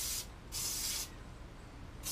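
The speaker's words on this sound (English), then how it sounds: "I just use the Bang garlic spray." Two short bursts of garlic-flavored cooking spray hiss into a fibreglass resin soft plastic lure mold, each lasting about half a second, close and fairly loud over a quiet background, with a third burst starting at the end.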